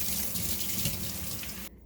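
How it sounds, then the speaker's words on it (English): Cold tap water streams steadily into a sink as quinoa is rinsed, a loud, continuous close-up gush that cuts off abruptly near the end. "We're going to rinse our quinoa in cold water to get the bitterness off."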